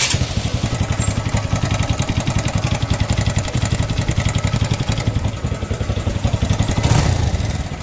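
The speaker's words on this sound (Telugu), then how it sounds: "ఇంజన్లో ఎట్లా వస్తుందో సౌండ్." A TVS Victor BS3 motorcycle engine with worn crank bearings runs steadily close by, a fast rhythmic clatter and knock over a continuous mid-pitched drone, loud and with no voices.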